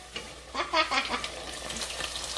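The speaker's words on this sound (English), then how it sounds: "So let's Dump them in there to fry." Hot oil sizzles and crackles steadily as corned beef egg rolls deep-fry, with a brief burst of louder bubbling early on, close and fairly quiet.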